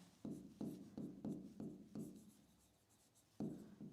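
A pen writes on a board or paper during a pharmacy lecture, making a series of soft, close scratchy strokes in a quick irregular rhythm, then a pause and one more stroke, quiet and alone.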